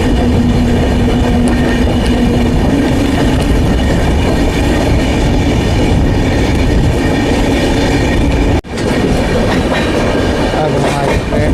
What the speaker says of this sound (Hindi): खूबसूरत कर्व ले लिया हमारी ट्रेन।